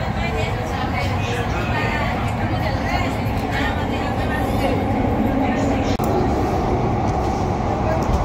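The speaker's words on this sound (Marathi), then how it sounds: "अंडरग्राऊंड मेट्रो होती ही" An underground metro train runs through a tunnel with a continuous loud rumble and rattle, steady throughout, while passengers' voices murmur faintly beneath.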